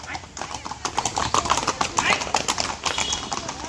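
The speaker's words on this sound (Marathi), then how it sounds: "ते बघ घोडा आलं बघ" Horse hooves clop in a quick regular rhythm close by in Matheran, while voices chatter over them.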